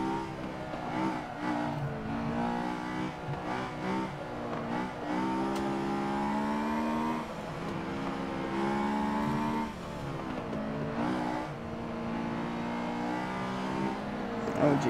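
A race car engine in Forza 7, driven with a wheel and shifter, drones and revs steadily, its pitch climbing and dropping through downshifts under braking, loud and continuous.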